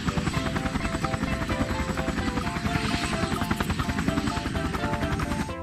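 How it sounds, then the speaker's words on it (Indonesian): A helicopter's rotor thumps in a steady rapid rhythm with a whining engine buzz, loud and close throughout, with no other sounds. "Lihat, ada helikopter tempur."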